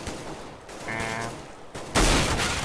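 Gunfire in Counter-Strike: Global Offensive, a loud burst of in-game shots cracking near the end after a quieter stretch of game ambience.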